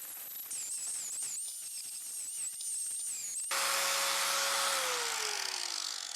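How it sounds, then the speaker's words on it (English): An angle grinder sanding a lawn mower blade: scratchy grinding at first, then a loud steady high whine that winds down as the motor slows, close and alone with no voices. "I sanded with the grinder"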